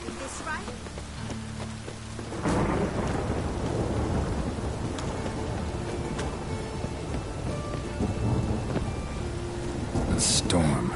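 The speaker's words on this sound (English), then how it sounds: "A storm, damn it." Thunder rumbles and heavy rain pours in a PS4 video game storm, a loud sustained roar building after a quieter opening with a sharp crack near the end; a voice speaks briefly at the start.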